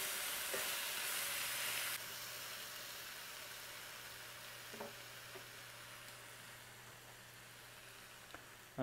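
Fish pieces fry steadily in a hot pan while being stirred and broken up, a continuous sizzling hiss with a few soft scraping knocks, fairly close and without talk.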